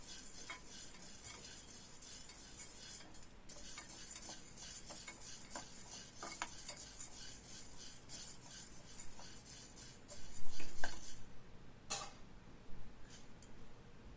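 Chana dal dry-roasting in an oil-free kadai, stirred continuously with a spatula: a dense, dry rattling and scraping of lentils against the metal, close and steady, with a few louder scrapes toward the end and no talk.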